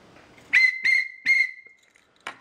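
Three sharp, shrill toots from a Hammerhead plastic whistle in quick succession, loud and close, the last one held slightly longer, followed by a brief clatter.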